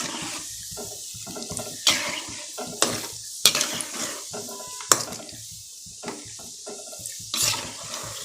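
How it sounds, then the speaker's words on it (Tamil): Cashews fry in a pan while being stirred for kesari, with a soft sizzle under repeated scraping and clinking strokes of a utensil against the metal, several sharp knocks scattered through. "முந்திரி பாருங்க அப்படி லைட்டாக ப்ரௌன் ஆகுது"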